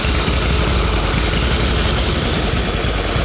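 A rare 1910s-era motorcycle engine runs loud and close, a dense, rough, rapid rumble of firing pulses that holds steady throughout with no voices.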